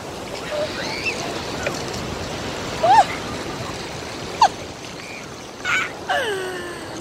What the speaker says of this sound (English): Oh, the water is just coming all the way up.